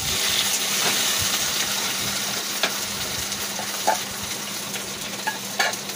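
Food fries in a pan at home with a constant bubbling sizzle up close, joined by a few sharp clinks and spatters, with no one talking.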